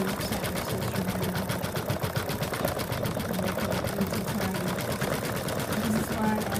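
An embroidery machine sews a satin stitch around a teddy bear's muzzle, a dense rapid needle rhythm running without a break beneath a voice that talks over it throughout.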